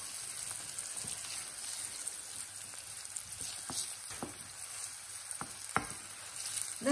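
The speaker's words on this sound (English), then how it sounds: "You want to do this over a medium heat to allow the onion just to soften." Chopped onion in a pan over medium heat gives a soft, steady sizzle with scattered small pops and crackles. Occasional light stirring noises come through, close up and quiet, with no talking.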